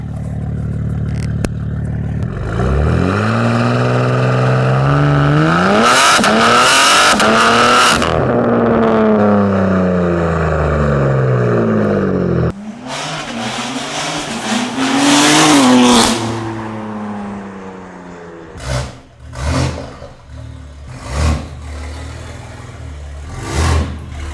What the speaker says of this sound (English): you're gonna hear how this exhaust really sounds